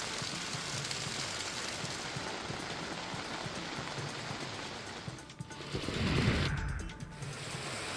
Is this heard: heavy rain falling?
yes